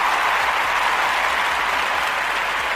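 An audience claps for Cleve in dense, even applause that stays loud and unbroken from start to finish.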